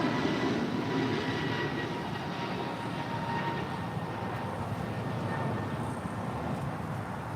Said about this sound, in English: That is American Airlines 143 departing to Honolulu on an A321neo.